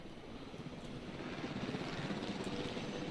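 Helicopter in the dinosaur park game Jurassic World Evolution, a steady rotor thrum with a rhythmic chop that grows slightly louder, heard alone without talk.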